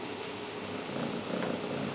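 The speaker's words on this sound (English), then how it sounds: "a purring cat" A cat purrs in a close, steady low rumble for about two seconds, heard on its own as a sound effect.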